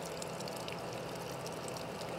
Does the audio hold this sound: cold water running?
yes